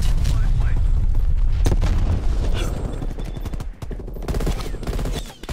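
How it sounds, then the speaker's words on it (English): Incoming artillery strike in Call of Duty: Black Ops Cold War, heavy close explosions and rumbling booms mixed with rapid gunfire, loud and dense throughout with a brief dip before resuming. "Artillery targeting detected. Neckle, incoming artillery."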